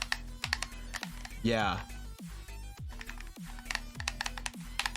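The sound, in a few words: computer keyboard typing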